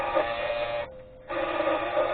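An end mill grinds on an EMG-12 sharpener, a steady close whine that briefly dies away mid-clip and then resumes at the same level.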